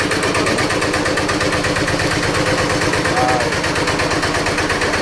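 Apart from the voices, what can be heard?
generator engine running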